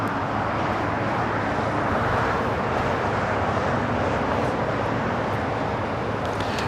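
A Boeing 777-300ER airliner takes off at LAX, bound for Tokyo Haneda, its jet engines producing a loud, steady broadband roar that holds throughout.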